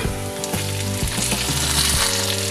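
Pork dropped into a pan of toasted onion and garlic sizzles and fries loudly and steadily, with stirring scrapes, while cooking Filipino pork caldereta.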